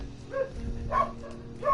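A person's voice imitates a dog barking with a run of quick, repeated woof sounds, close and fairly loud over a steady hum of game audio.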